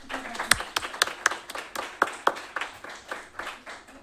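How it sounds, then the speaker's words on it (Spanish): An audience claps for a speaker at a work psychology innovation conference: a sparse, uneven patter of individual hand claps, fairly close and distinct, with a few faint voices underneath. "un aplauso para Pilar Rojo"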